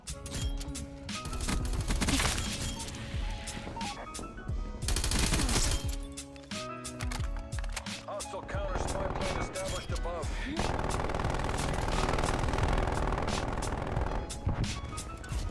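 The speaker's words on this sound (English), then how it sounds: "I think that's a sentry gun." Call of Duty Cold War gameplay with dense, continuous automatic gunfire and sentry gun bursts alongside overlapping explosions and game sounds, loud throughout.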